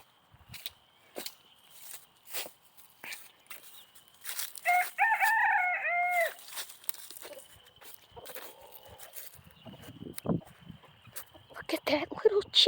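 A cochin chicken crows once, loud and close, in a yard with guinea fowl and other birds, surrounded by scattered clucks, footsteps and rustling, with brief talk nearby.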